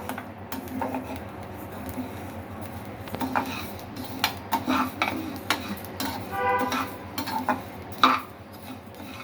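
Moong dal being dry-roasted and stirred in a pan, giving scattered sharp clinks, scrapes and ticks from the spoon against the metal, irregular and close, over a faint low background hum.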